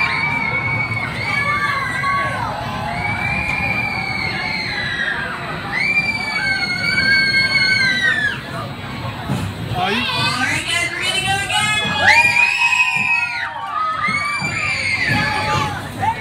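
Crowd of children screaming and cheering together, a dense sustained mass of high shrieks and whoops that rises and falls in waves, loud and close, with excited talk mixed in.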